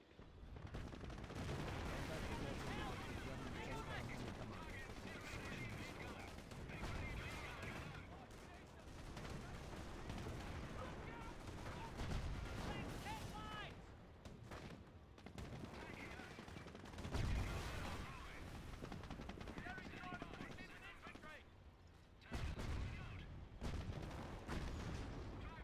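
Dense gunfire and heavy artillery blasts pound around a Cromwell tank in a Liberation of Caen battle game, continuous loud rattling shots and booms with voices shouting over the din.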